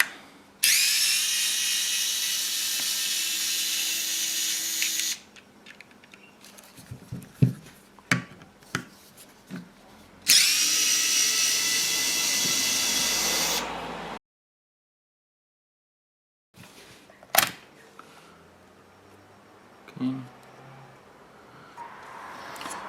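A power drill opens a DeWalt battery pack in two sustained bursts of loud, high whine, separated by clicks, knocks and handling of loose parts, with a quiet gap near the end.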